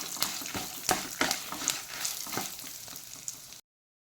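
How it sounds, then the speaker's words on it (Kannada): Cinnamon, cloves and fenugreek seeds dry-roasting in a pan for bisi bele bath spice mix, giving a soft crackling fry with repeated spatula scrapes and stirs, quiet and close, ending abruptly. "ಚಕ್ಕೆ, ಲವಂಗ ಎಲ್ಲ ಹಾಕಿಕೊಳ್ಳಿ. ಹುರಿಯಿರಿ."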